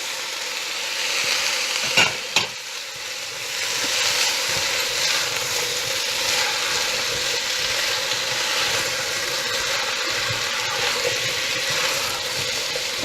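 A spoon stirs tomatoes and white potatoes in a soup pot of vegetable soup, a steady bubbling, sizzling simmer with a couple of sharp clinks of utensil against the pot near the start and soft scraping throughout.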